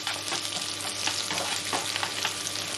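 Aromatics sizzle and crackle in hot oil as they are quickly stirred in a pan while cooking Vietnamese fish porridge, a close, steady frying hiss with scraping stir pulses.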